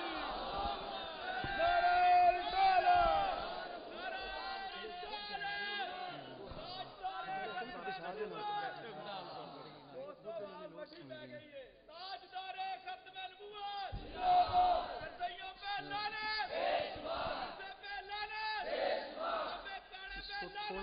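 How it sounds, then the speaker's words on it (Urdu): Crowd at a 2008 gathering in Marh Balochan roars a loud chanted slogan in unison to welcome a former acting chief justice, rising in repeated bursts of massed voices over a steady hubbub. "نعرے سے استقبال کیجئے"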